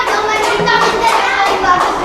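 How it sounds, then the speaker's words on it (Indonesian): Children in a classroom clap for a student group, quick uneven hand claps mixed with young voices calling out, close and lively for a couple of seconds. "tepuk tangan untuk kelompok 4"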